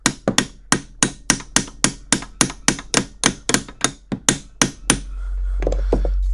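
Brisk, steady brass hammer taps ring out close by on a BW-90 Black Diamond drill grinder, about fifteen sharp metallic strikes in quick succession, then stopping as a low hum rises.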